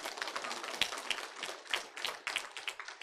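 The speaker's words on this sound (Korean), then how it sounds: "박수 좀 한번 쳐줘요" Clapping from a church congregation at a revival service, a short patter of hands that rises and falls around a few louder claps, fairly soft.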